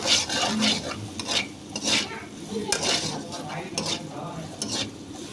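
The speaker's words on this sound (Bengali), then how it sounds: "প্রথমেই কড়াইটাতে তেল ভালোভাবে গরম করে নিয়ে তাতে পেঁয়াজ কুচি দিয়ে খুব ভালোভাবে ভেজে নিচ্ছি" Chopped onions fry in hot oil in a kadai wok, a sizzling hiss broken by repeated scraping strokes of a spatula against the metal, close and fairly loud, with no one speaking.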